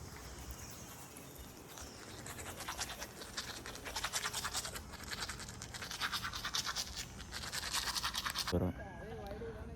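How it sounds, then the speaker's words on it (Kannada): Teeth being brushed with a toothbrush, a close, steady rapid scrubbing and scratching that runs for several seconds in fast strokes, ending with a short clatter. "ಬ್ರಷ್ ಮಾಡ್ತಾಯಿದ್ದೀನಿ"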